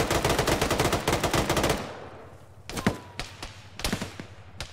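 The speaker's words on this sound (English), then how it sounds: "Taking fire from the southwest across clearing." Gunfire in the Arma game during a ShackTac session: a sustained, loud burst of rapid automatic fire, then a pause and several separate sharp shots with echoing tails.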